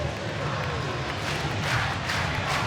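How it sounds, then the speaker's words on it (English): An ice hockey crowd at a Sheffield Steelers home game against Manchester Storm in the EIHL roars steadily after a goal. The dense arena noise rises slightly while a commentator talks over it. "the Steelers crowd absolutely thrilled by what they're seeing from Anthony DeLuca"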